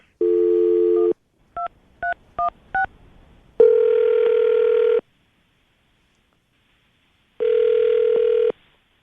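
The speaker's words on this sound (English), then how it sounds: "We're going to call her right now, see if we can get her on the phone" A dial tone, then a quick series of keypad beeps, followed by two long ringback tones with silence between them.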